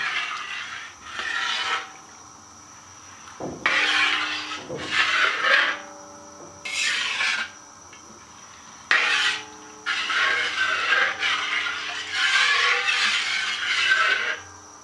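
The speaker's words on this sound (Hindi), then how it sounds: "ये कोशिश करनी है कि साथ साथ चम्मच चलाते रहें।" A spoon scrapes and stirs carrot and rice kheer in a pot, a run of close, rhythmic rubbing strokes that come in bursts with short pauses between them.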